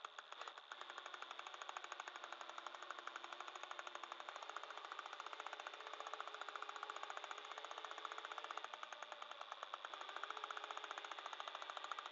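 A rapid, steady mechanical hammering rattle runs continuously, like a pneumatic drill or impact tool working nearby during auto glass removal, with no talking.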